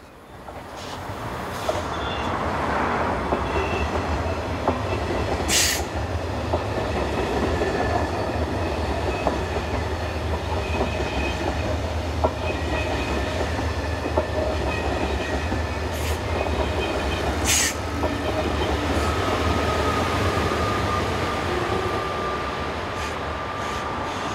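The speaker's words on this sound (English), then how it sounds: "The 637 from Châtelet to Bruxelles soon arrives with Siemens Class 18, number 1808, providing the power at the rear." A Châtelet to Bruxelles passenger train arrives with a Siemens Class 18 electric locomotive pushing at the rear, a loud steady rumble of wheels on rails with rhythmic clicks and a couple of brief high squeals.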